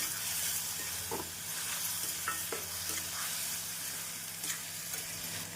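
Ground tomato paste with ginger garlic paste sautéing in a pan over medium flame for vegetable kurma, a soft steady sizzle with occasional light scrapes and stirring taps, close and quiet, no talk.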